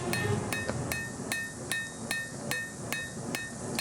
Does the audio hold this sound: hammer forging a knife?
yes